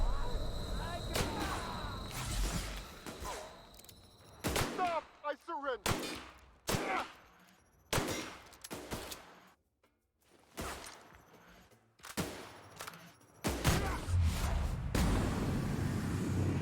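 Gunfire in The Outer Worlds, loud sharp shots fired in irregular bursts with short silent gaps between them, some single cracks and some rapid clusters, with brief voices in between.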